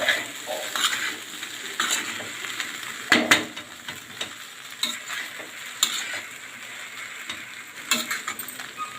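Poha being stirred together with salt in a hot pan, a steady soft scraping and gentle sizzle with a few sharper clinks of the spoon against the metal, close and fairly quiet throughout.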